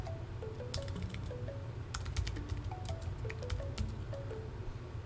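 Fast typing on a computer keyboard, with rapid irregular key clicks running steadily over a low background hum; no one talks.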